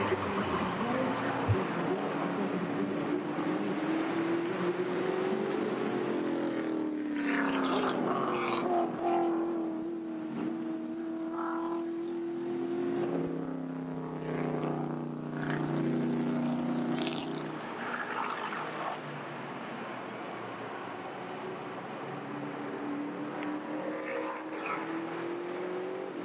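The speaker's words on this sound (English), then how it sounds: "Yes, this 70 Mustang really looks tough going around the corner sideways." 1970 Ford Mustang Trans Am race cars at Lime Rock, engines howling and shifting pitch as they accelerate and corner, with a few cars passing in turn and light talk over them.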